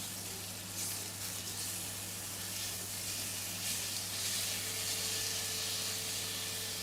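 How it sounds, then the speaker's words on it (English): Pork belly searing gently in a hot pan, a soft steady sizzle and hiss with faint crackles, quiet and continuous with a low hum underneath and no talking. "This is just meant to be a gentle sear, by the way."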